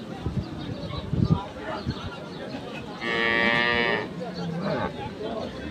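A cow at a cattle market lets out one long, loud moo mid-clip, amid crowd murmur, shuffling and voices talking nearby before and after.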